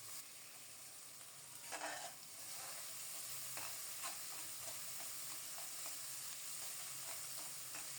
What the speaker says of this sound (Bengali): কিছুক্ষণ এভাবে মশলার সাথে চালটাকেও কষিয়ে নিচ্ছি